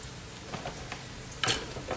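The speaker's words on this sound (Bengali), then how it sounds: "পেঁয়াজটা মোটামুটি ভাজা হয়ে গেছে।" Onions fry in a pan with a soft, close sizzle, punctuated by a few light stirring scrapes and a sharper burst of crackle near the end, with no one talking.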